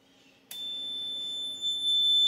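A sudden piercing high-pitched overvoltage alarm buzzer on a Keletron 60-amp power supply switches on above 14.4 volts and holds a steady continuous tone, loud and close, with a faint electrical hum beneath.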